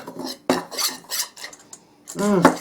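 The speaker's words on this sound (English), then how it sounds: "Now we're just going to mix this all up." A spoon clinks and scrapes against a bowl while taco seasoning spices are mixed, giving a series of sharp close metallic taps and scrapes in an uneven rhythm.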